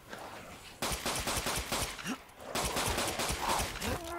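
Pistol gunshots in the horror video game Resident Evil Village, a rapid string of loud, close shots in two bursts with a short gap, alongside a creature's groans.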